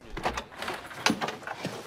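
A door being opened: a few soft clunks and rattles of the handle and frame, with a sharper knock midway, fairly close and with no one talking.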